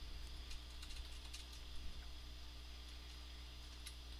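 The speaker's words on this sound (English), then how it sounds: "we got some people typing" Several people type on computer keyboards during an online class: faint, scattered key clicks tapping irregularly under a steady low hum, with no voices.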